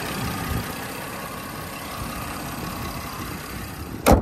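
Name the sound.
Porsche Cayenne engine idling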